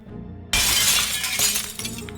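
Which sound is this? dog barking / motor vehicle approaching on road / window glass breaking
window glass breaking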